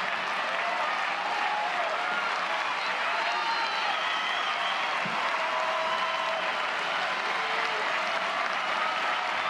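A stadium crowd of over 4,500 at a college softball game between Oklahoma and Miami cheering steadily in the seventh inning, a continuous distant roar of voices and clapping without pause.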